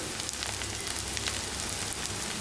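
Curry leaves and coriander sizzle in hot oil with ginger-garlic paste and green chillies, a dense, steady crackling fry that continues evenly throughout without any voices.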